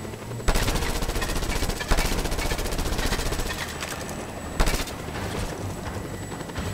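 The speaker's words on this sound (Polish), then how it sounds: "Zobaczcie, strzelam w niego, nie?" Rapid machine-gun bursts from the open-world shooter Just Cause 2 rattle continuously, with several sharp louder shots punctuating the steady stream of fire.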